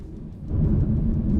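A deep engine rumble from a Porsche 911 Turbo S 992.2 with 711 hp on a race track swells louder partway through, a close, low, continuous growl.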